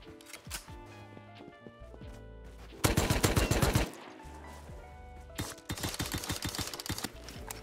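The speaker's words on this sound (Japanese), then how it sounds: "なんか銃声させたから結構人来そうだな" Bursts of rapid gunfire in the video game Rust crackle in short volleys, with a loud sustained automatic stretch in the middle and another fast burst near the end.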